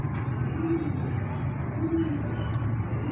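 Soft, low pigeon coos repeat a couple of times under a steady murmur of background noise at a Sunday pigeon market at Lari Adda, Lahore, with no talking.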